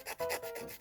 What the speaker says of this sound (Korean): 이제 요 끝부분 여기를 다 다듬어 줄 거예요.